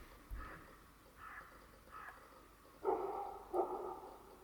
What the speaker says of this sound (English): Oh, I wonder why Bram is barking